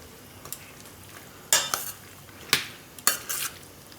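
A spoon stirs broccoli and corn in a pan of heated oil, making a few sharp clanks and scrapes in irregular bursts against a quiet background.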